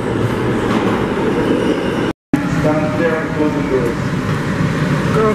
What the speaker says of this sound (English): now the train was coming on this side